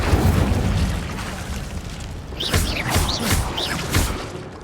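In the Hogwarts Legacy video game, an Incendio fire spell bursts with a deep rumbling boom, followed by a run of whooshing flame sweeps, loud and close.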